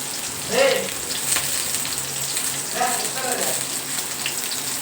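Green chilies and onion frying in a pan on a low flame give a steady soft sizzle throughout, with a few brief voices or clinks rising over it.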